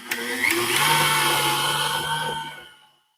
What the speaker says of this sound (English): And now I'm going to mix it on medium to high speed.